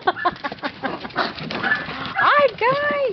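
Puppies whimper and yelp in short, high, rising-and-falling cries near the end, after a stretch of scuffling and people calling to them.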